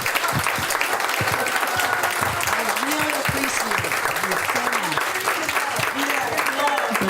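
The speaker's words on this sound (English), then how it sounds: "we're going to take a moment to thank Rolonda with a big clap" Sustained loud applause from a crowd, steady clapping throughout with a few voices calling out underneath.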